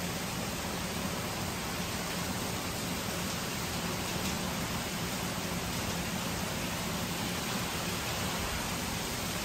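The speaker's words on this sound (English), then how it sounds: "I don't think I've ever seen this much rain for this long." Heavy, steady rain from Hurricane Ian in Orlando, a dense unbroken hiss and patter of downpour on surfaces, loud and close without letting up, no voices.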